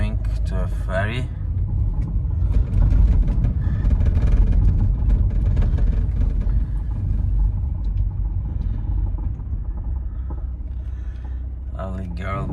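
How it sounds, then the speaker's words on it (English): A car drives along a road toward the ferry at Knightstown on Valentia Island, its steady low engine and tyre rumble loud and continuous throughout, with a brief voice near the start and end. "We are driving to a ferry."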